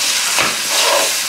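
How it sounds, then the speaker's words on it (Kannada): Chopped ripe tomatoes fry in a hot pan with a loud, steady sizzle and hiss, close up, swelling briefly as the pan is stirred and then settling back, with no voices. "ಟೊಮೆಟೊ ಎಲ್ಲ ಚೆನ್ನಾಗಿ ಫ್ರೈ ಆಗಬೇಕು, ಒಂದು 2 ನಿಮಿಷ ಆಗುತ್ತೆ."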